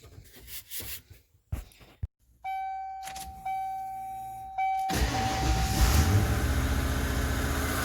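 A 1996 Ford Bronco with a 5.0 engine is started: a few clicks and rattles, then a brief starter whine, followed by the engine catching and settling into a loud, steady idle close by.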